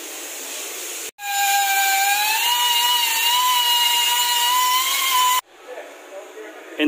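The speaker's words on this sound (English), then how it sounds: "taking the old ball joint out, that's what you saw us trying to drill off" A drill cutting into an old rusty ball joint on a crashed VW GTI, a loud steady high whine that runs for several seconds and then stops abruptly, leaving quieter workshop noise.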